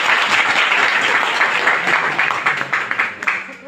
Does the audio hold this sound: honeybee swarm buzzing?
no